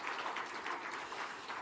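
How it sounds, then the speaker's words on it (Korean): A church congregation applauds in blessing and encouragement during a Sunday afternoon service, a soft, steady wash of many hands clapping together, heard from a distance without talk. "격려 축복의 박수 해주시길 바랍니다"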